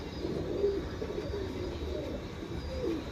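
A male Tamral pigeon coos in soft, low, repeated phrases, close by and alone over faint background hiss.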